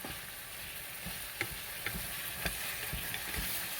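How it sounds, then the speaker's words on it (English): Taco meat sizzles steadily in a frying pan while being stirred, with a constant hiss and a few sharp scraping clicks from the utensil, close and fairly loud, with no voices. "that's frying up real good in that pan"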